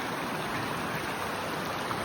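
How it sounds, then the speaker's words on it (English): Swift Creek flows steadily nearby, a constant broadband rush of moving water with no pauses, filling the whole span at an even, moderate level. "It's a creek. It's not a stream. It's not a river. It's Swift Creek."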